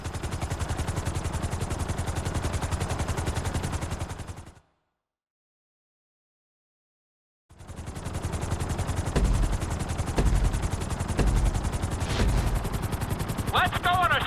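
Helicopter in the video game Grand Theft Auto V: a steady, rapid rotor chop holds at an even level, cuts to silence for a few seconds, then resumes with a few heavier thumps mixed in.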